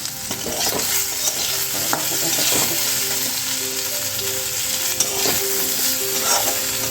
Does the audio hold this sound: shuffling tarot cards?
no